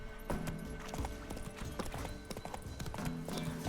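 Hooves clip-clop rapidly as a horse gallops in The Witcher 3, a dense, steady drumming rhythm at close range with a faint whinny mixed in among the game sounds.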